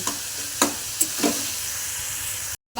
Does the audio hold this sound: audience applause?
no